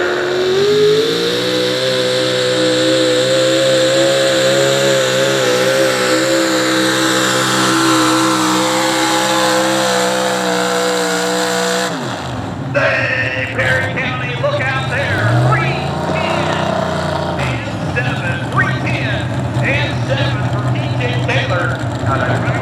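A.J. Taylor's Chevrolet pulling truck, the Second Amendment Chevrolet from Lexington, Ohio, at a truck and tractor pull in New Lexington, Ohio: a loud sustained engine drone with rising revs, then a sharp shift into a rougher, louder roar, with an announcer talking over it.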